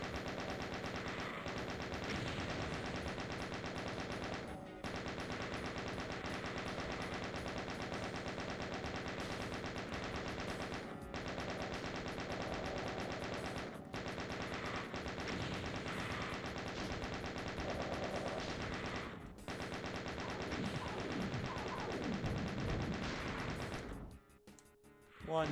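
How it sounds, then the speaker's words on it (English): Rapid chain gun fire in the 1994 PC game Doom II, a dense, loud, continuous rattle of shots with a few brief breaks, lasting almost the whole stretch before stopping abruptly near the end. "And from here, we can just chain gun the rest."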